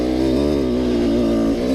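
Dirt bike engine revving hard and steady as the rider tries to gain speed on a slick, muddy trail, a loud, close, continuous motor drone with no talking.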